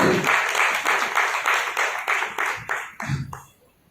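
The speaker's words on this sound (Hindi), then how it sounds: "अभिवादन कीजिए जोरदार तालियों से" A crowd at a Ram Navami lecture claps enthusiastically in steady rhythmic applause that gradually fades and stops.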